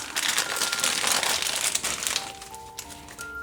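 Close, steady crinkling and crumpling of plastic packaging as Nendoroid figure parts are pulled free, a continuous rustle that tapers off near the end.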